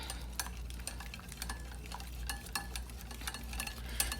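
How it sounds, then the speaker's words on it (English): Batter of flour whisked in a bowl for coconut shrimp, a steady run of quick scraping taps and swishes at close range with no voices. "I want to make sure I get it all in the center, so I'll be able to whisk it all."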